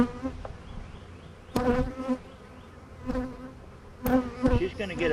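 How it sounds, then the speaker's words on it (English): A soft, steady hum of buzzing honey bees with a few faint knocks and clicks mixed in. "I'm quite amazed these bees aren't pissy today"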